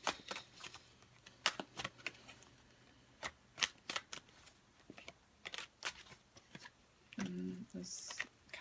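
A deck of tarot cards being handled and drawn, giving a series of crisp, close flicks and snaps at irregular intervals and a brief riffling burst near the end, with speech in the background.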